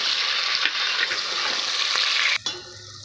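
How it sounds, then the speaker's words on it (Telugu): Green chillies and tomato pieces fry and sizzle in a pan over a steady, loud hiss, with a brief stir clatter near the end. They go in after onions for a ghee pulao and country chicken curry. "ఇప్పుడు దీంట్లో నేను గ్రీన్ చిల్లీస్ వేస్తున్నాను, ఇంకా టమాటా ముక్కలు. ఇవి కూడా ఫ్రై అవ్వనివ్వాలి."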